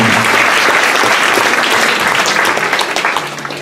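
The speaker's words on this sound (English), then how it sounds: "Give yourself a round of applause." An audience at the MATV annual dinner applauds, loud dense clapping that holds steady before tapering slightly near the end.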